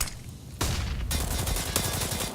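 Gunfire bursts in Counter-Strike: Global Offensive on the Train map during a professional match, sounding as dense, loud rapid shots that swell partway through and keep going to the end.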